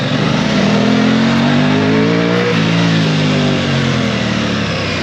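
A loud Aprilia Tuono 660 motorcycle engine revving close by, its pitch rising and falling in sustained throaty pulls with no voices.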